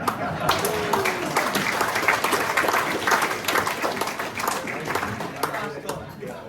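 Audience applause at a Morrinsville ward council candidates' meeting, a steady crowd clapping that holds at even loudness throughout, with some voices murmuring beneath it.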